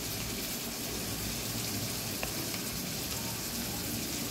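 Steady, soft sizzling of spices frying in a pan just after chili powder is added while cooking soya chaap, a continuous low hiss with no talk over it.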